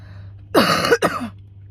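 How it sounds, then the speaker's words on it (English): Someone speaking to a group coughs twice in quick succession, close and loud, a harsh throaty burst followed by a shorter second one over a low steady hum. "Now I feel like I got a cough."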